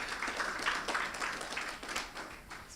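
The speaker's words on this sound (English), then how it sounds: "Another round of applause to His Excellency" An audience at a formal report launch event claps, a faint spread of scattered hand claps at some distance, steady for a couple of seconds before thinning out.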